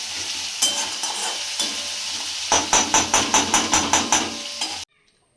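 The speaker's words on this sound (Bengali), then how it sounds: "আর এই কাঁকরোল ভাজা বসিয়ে দিয়েছি।" Pointed gourd (kakrol) slices fry in oil in a pan with a steady close sizzle, broken by a run of regular spatula scrapes and stirring taps before the sound cuts off abruptly.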